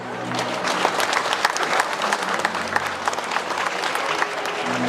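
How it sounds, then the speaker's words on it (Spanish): Guests at a civil wedding ceremony in Ameyaltepec break into steady, dense applause that carries on evenly for several seconds from a crowd close by. "El aplauso."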